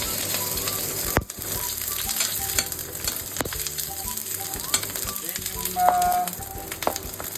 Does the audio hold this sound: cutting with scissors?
no